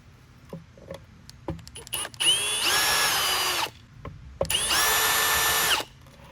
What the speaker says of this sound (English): And I've just taken out the 5 perimeter screws.